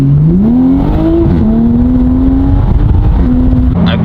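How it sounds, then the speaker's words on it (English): A Toyota Supra on new wheels accelerates hard at full throttle, engine note climbing steadily and loud and close, with road noise underneath as the tires grip; no talking. "I basically floored it."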